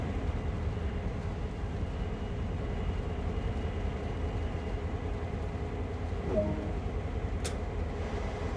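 A train in the Train Sim World game slows under maximum brakes on the Peninsular Corridor. A steady, close rumble of the rail vehicle runs throughout, with a faint squeal late on and no talk.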